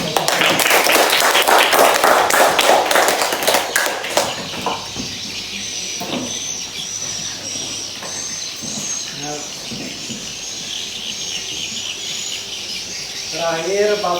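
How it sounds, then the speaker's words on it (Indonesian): Classroom students clap for classmates after a lesson presentation; a loud rapid burst of clapping fills the first few seconds, then fades to a quiet room with faint chirping birds outside. "Beri tepuk tangan kepada teman-teman yang menyampaikan."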